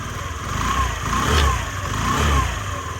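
Honda Dio AF-68 scooter engine running steadily close by, a continuous mid-pitched hum with gentle rises and falls in loudness and no talk.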